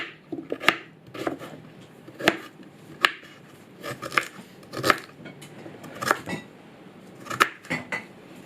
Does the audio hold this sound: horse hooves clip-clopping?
no